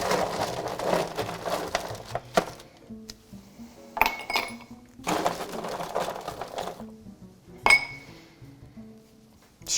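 Ice cubes clink and rattle in a whisky glass being stirred, a run of bright, close clinks and knocks in bursts with short pauses between them.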